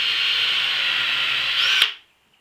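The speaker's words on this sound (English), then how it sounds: "I'm gonna just take a hole here in the center. And put a countersink in there, one down the bottom here" A power drill cutting a countersink into a hole in wood, a steady whining spin that rises briefly and then winds down to silence, close and loud.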